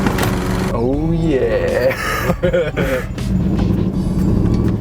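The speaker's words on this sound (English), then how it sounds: "This is the first startup on a 1994 absolute pile of shit BMW 530." Engine of a rough 1994 BMW 530 running just after its first startup, a steady close rumble beneath a man's brief spoken exclamation.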